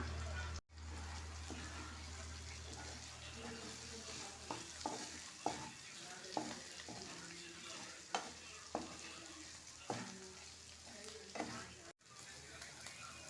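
Chicken is added to a masala base in a pan and stirred, giving a soft, steady sizzle broken by a series of spoon scrapes and clinks at a regular pace.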